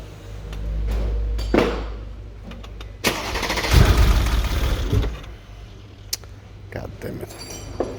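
A 2012 Mercedes CLS 63 with 137k km is cranked several times, catches and revs into a loud burst, then settles to a rough idle, with people talking nearby.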